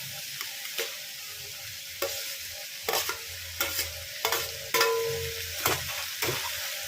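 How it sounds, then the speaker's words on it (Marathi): Papdi bean pods stirred in a pan with a spoon, giving repeated scraping strokes over a soft, steady sizzle, close up with no talking. "शेंगा चांगल्या हलवते"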